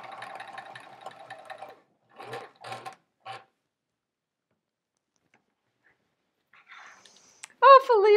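A sewing machine runs in short bursts while quilt sashing is stitched onto a block, with a buzzing run followed by a few brief stitching spurts and long quiet gaps; a voice enters near the end.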